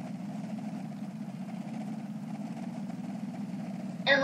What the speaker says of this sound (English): Let's start up the engine in the back.